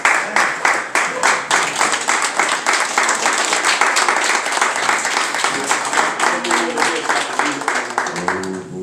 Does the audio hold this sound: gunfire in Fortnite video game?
no